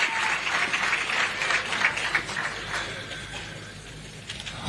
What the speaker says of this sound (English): Another round of applause for the President of the Republic of Zambia.